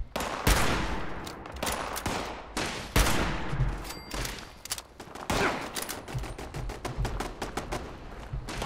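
Dense turret gunfire in Fallout 76, rapid overlapping bursts of shots with hard impacts, loud and continuous throughout with brief gaps between volleys.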